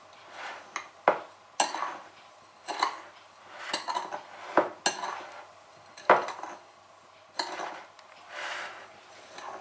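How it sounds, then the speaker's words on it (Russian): A spoon stirs coconut flakes and sugar in a small baking form, giving rhythmic scraping sweeps with sharp metallic clinks against the dish, close and alone without talk. "аккуратно перемешиваем, смешиваем кокосовую стружку с сахаром"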